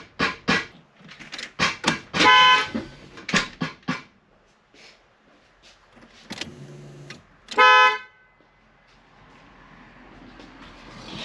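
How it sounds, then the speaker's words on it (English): Horn of a Mk2 Jetta honking in loud short bursts, blaring close by amid clattering handling noises and brief sounds in between, with one more sharp blast later. "I hit the horn, that was kind of loud"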